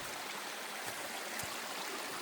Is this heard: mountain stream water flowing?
yes